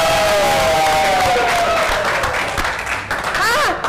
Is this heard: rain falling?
no